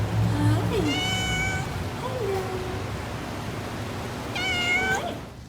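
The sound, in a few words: cat meowing in a conservatory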